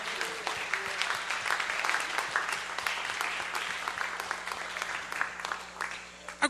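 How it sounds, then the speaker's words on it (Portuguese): A church congregation claps in praise to the Lord, a brisk burst of many hands with some murmured voices underneath, fading out toward the end. "Quantos podem aplaudir ao Senhor?"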